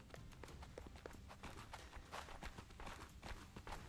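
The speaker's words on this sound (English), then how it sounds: "My footsteps are really freaking me out because it literally sounds like somebody is behind me." Footsteps in the video game Orebound, a rapid run of soft thuds and scuffs close by, layered over a dense, busy game soundscape with no one talking.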